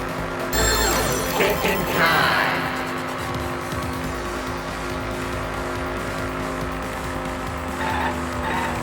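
Tires squeal and an engine roars as a car drives and skids in the Danganronpa V3: Killing Harmony video game, a loud, steady stretch of continuous motor and screeching noise with a brief burst near the start.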